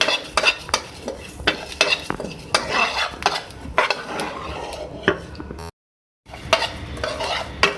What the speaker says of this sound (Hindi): मैं इसमें डाल रही हूँ ज़ीरा, बाकी तमाम चीज़ें, इन सबको हम रोस्ट कर लेते हैं